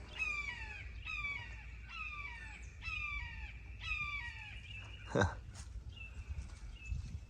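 A hawk calls from a tree overhead in a repeated series of sharp, descending cries, six or so in a regular rhythm, clear and fairly close, followed by a brief knock and fainter calls.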